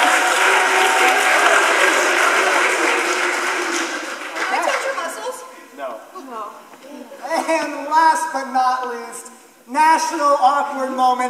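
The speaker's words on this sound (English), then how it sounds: "Give a warm round of applause for Allie" An audience at a holiday-themed costume race event claps warmly, a dense round of applause that fades out, then gives way to talking and a voice.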